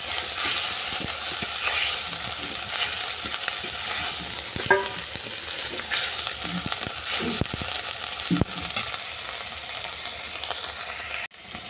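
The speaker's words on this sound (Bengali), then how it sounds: "পেঁয়াজের সঙ্গে টমেটো আরও কিছুক্ষণ কষিয়ে নিয়েছি" Chopped tomato sautéing with onions in a pan, sizzling steadily throughout with scattered scrapes and clinks of a spoon stirring, close and fairly loud, no talking.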